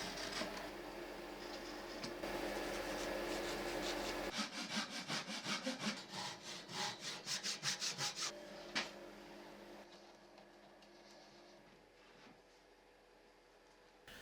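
Hand saw cutting birch plywood for mitre joinery, a steady run of rasping back-and-forth strokes that quickens into a rapid rhythmic burst before stopping, leaving quieter scraping and shuffling close by.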